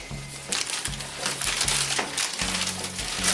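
Brown paper packing being pulled and crumpled out of a box, a continuous close crinkling and rustling with sharper bursts and a low intermittent hum underneath.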